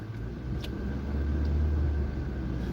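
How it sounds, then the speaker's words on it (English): A car creeping slowly over a speed hump on a Detroit street, a low rumbling thud and steady engine drone building slightly in the middle, with no talking. "I'm going to go over really slow. This speed hump will tear your car up."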